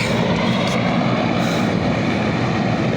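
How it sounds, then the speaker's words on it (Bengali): A helicopter descends to land at a stadium in Pabna district, its rotor and engine roar steady, loud and continuous, heard from a nearby rooftop with no talking. "মহামান্য রাষ্ট্রপতি হেলিকপ্টার এখন নামতেছে স্টেডিয়ামে"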